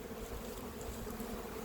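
Honeybees buzz in an opened hive holding about eight or nine frames of bees, a soft, even drone that is faint and continuous, with no voices.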